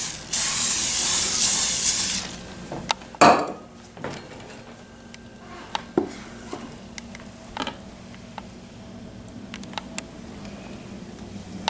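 Cooking spray hisses onto a waffle iron in a loud burst lasting about two seconds, followed by quiet clicks and knocks of kitchen handling.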